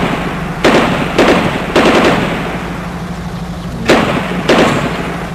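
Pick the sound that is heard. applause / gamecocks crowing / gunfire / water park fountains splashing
gunfire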